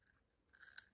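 Biting and chewing into fried fillet of wild tilapia: a quiet stretch, then a brief crisp crunch with one sharp bite near the end, faint and close.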